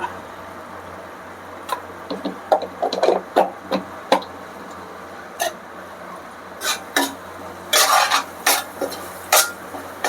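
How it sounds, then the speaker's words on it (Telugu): Butter, oil and masala for a Mughalai egg curry fry in a pan while being stirred, with irregular bursts of spatula scraping and clinking over a faint, low sizzle. "ఇలా ఆయిల్ అంతా ఈ బటర్ మొత్తం కూడా పైకి తేలే వరకు ఇలా మంచిగా ఫ్రై చేసుకోవాలి"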